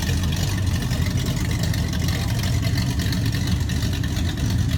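A loud Jeep at an outdoor car show produces a steady, dense engine rumble that fills the whole clip, close and constant with no pauses or clear revving.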